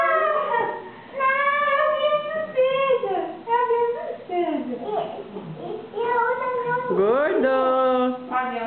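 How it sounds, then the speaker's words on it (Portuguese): A cat meows repeatedly in a home, a series of drawn-out, rising and falling calls at close range, mixed with a child's high-pitched speech. "Outro miau."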